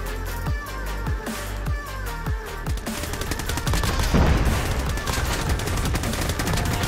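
Rapid automatic gunfire from Call of Duty Mobile battle royale with a custom M4, starting as spaced single shots and building into dense, continuous bursts.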